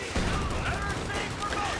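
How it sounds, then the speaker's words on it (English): Dense, continuous gunfire from a Company of Heroes 2 battle between US, British and German forces, with rapid overlapping shots and machine-gun bursts filling the short stretch, with speech mixed in. "just shooting point blank"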